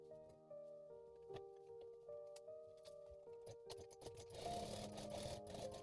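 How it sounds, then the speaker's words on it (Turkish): A sewing machine stitches bust and waist darts on a blouse, running in steady bursts of fast whirring with brief pauses, growing louder and busier toward the end, close and alone. "İlk olarak göğüs ve bel penslerini dikiyorum."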